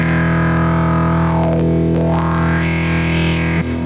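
External audio run through the effects of a SmplTrek sampler: a thick, distorted sustained tone with a filter sweeping down and back up, ending in a brief shift, loud and continuous.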